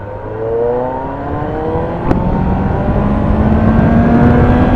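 A Kawasaki Ninja ZX-9R 900cc sport motorcycle engine revs high, climbing steadily in pitch, loud and close, with a brief click partway through as the whine keeps rising.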